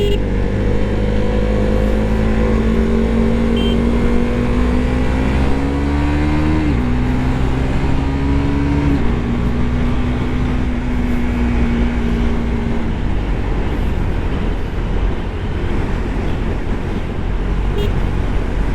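A KTM RC 390 motorcycle fitted with an Akrapovic slip-on exhaust rides on a touring road in Ladakh, its engine droning steadily close by with a rising tone as it accelerates and shifts gears, under strong wind rush.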